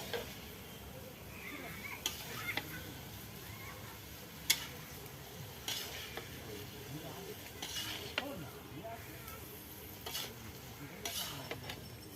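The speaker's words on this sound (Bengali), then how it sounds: "এবার ভালো করে নেড়ে চেড়ে ভালো করে কষিয়ে নেব।" Spices for khichuri are stirred and sautéed in a pan, with a soft continuous sizzle and intermittent scrapes and taps of a utensil against the pan, fairly faint and steady.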